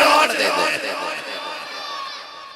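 A crowd at a Muharram gathering about Karbala chants religious slogans together, a dense, loud swell of many raised voices that gradually eases off.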